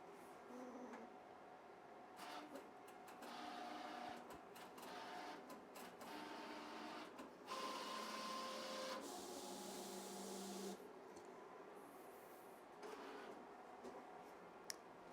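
A Graphtec sticker cutter loaded with roll stock registers the front edge, giving steady mechanical whirring with clicks, short motor whines and ticking from the carriage moving back and forth, close and without talk.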